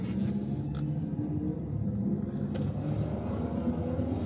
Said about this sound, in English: This is a 5-liter engine.